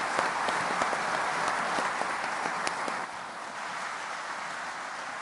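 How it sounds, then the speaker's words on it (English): A round of applause from a seated audience for panelists at a Good Friday Agreement anniversary event, steady mid-distance clapping that thins slightly partway through. "let's give the panelists a round of applause"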